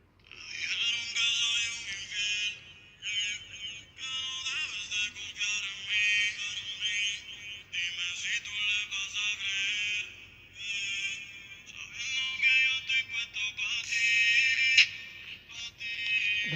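Audio playing through Bluetooth earphones connected to a phone, a steady bright tinny electronic sound with pulsing, alarm-like tones that runs continuously throughout at moderate level.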